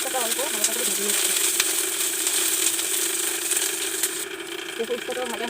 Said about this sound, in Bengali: উস্তাটা অল্প হালকা করে ভেজে নিচ্ছি।